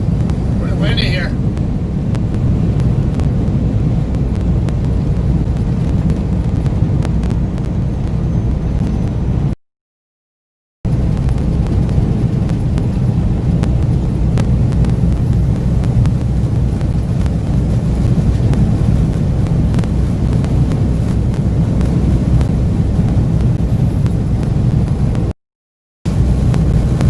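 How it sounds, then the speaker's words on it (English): Strong outdoor wind buffets a microphone as a steady, loud low roar that runs through the whole stretch, broken by two brief dropouts. "Pretty windy here."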